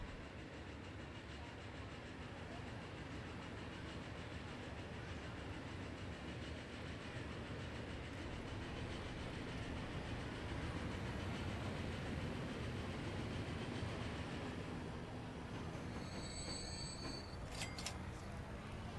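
A train in the video game Transport Fever rolls into a station with a steady low rumble and faint clatter of wheels, a continuous quiet wash that stays even throughout, with a brief high squeal near the end.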